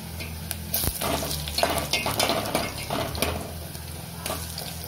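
Onion and garlic fry in a hot pan with steady sizzling and crackling, occasional stirring scrapes, close and continuous.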